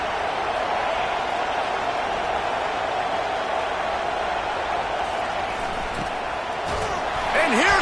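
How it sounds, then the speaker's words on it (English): A college football video game stadium crowd roars in a steady, dense wash of cheering that holds loud throughout, with a few faint tonal accents near the end. "This crowd knows when to bring it."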